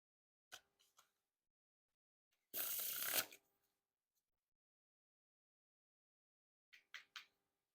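A Pharaoh shuffle of Bicycle Excellence playing cards: one smooth, crisp riffling burst as the halves interlock and weave, with a few soft card taps and clicks before and after, near and alone.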